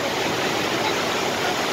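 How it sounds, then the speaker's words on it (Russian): A waterfall in Switzerland roars as a dense, steady broadband rush of falling water, close and continuous with no voices. "Вот сам водопад опять же."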